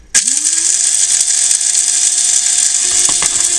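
An electric grinder whirs steadily as it grinds fish food pellets for homemade gel fish food, starting abruptly with a loud, continuous high buzzing motor drone and a few faint rattles near the end.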